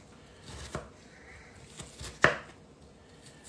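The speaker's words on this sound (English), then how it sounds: "And I just slice them in half, and then I'm turning them as I go." Knife chopping onion halves on a cutting board in a home kitchen, a few sharp, sparse cuts heard close and fairly quiet, with one louder chop near the end.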